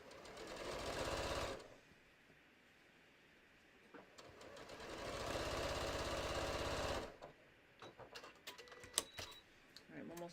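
A sewing machine runs in two sustained bursts while stitching a fabric bucket hat, close and steady, with a quiet gap between them and scattered clicks and handling noises at the end.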